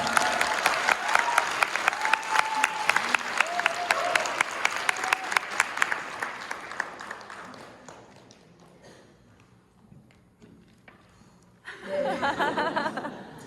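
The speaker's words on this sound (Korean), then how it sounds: "저 박수 한 번만 쳐주시면 안 될까요?" An audience at a business presentation claps in a steady, rhythmic burst that gradually fades over several seconds, followed by a brief lull and a short outburst of laughter and chatter.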